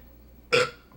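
One loud, close burp erupts abruptly and fades within half a second, with nothing else but faint room quiet around it.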